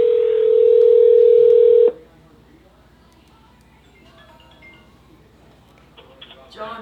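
Phone dialing tone played through a Bluetooth speakerphone: a loud, steady tone for about two seconds, then it cuts off, leaving quiet room sound and faint clicks.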